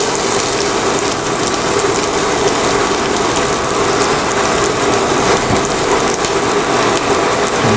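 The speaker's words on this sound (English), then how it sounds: "And we'll get our mushrooms in here. And let them saute a bit." Mushrooms sautéing in melted butter in a pan while a steak dish is cooked, giving a loud, steady crackling sizzle that fills the whole stretch with no break.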